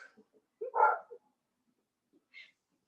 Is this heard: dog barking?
yes